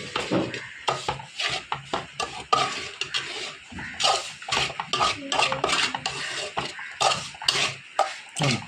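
A spoon scrapes and clatters in a pan while pork roast ingredients with turmeric powder are mixed, giving loud, close, irregular rhythmic knocks and scrapes throughout with no talking.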